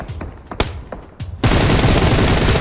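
Gunfire in the mobile battle-royale game PUBG Mobile: a few sharp separate shots crack out, then a sudden loud, dense stretch of sustained automatic fire carries on to the end.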